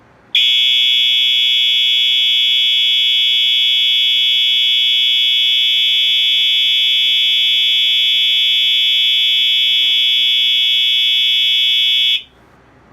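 A Wheelock EHS-DL1 horn strobe sounds a steady, loud continuous electronic horn tone for about twelve seconds, starting and stopping abruptly, with no talk over it.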